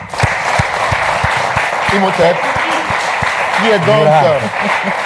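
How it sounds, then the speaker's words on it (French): An audience applauds, with scattered claps heard steadily under a voice announcing a name at a café-style stage event. "Je voudrais qu'on l'applaudisse très fort."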